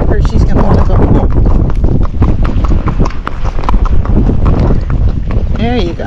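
A ridden Tennessee Walking Horse clip-clops with steady, closely spaced hoofbeats outdoors, loud and near, with wind buffeting the microphone throughout.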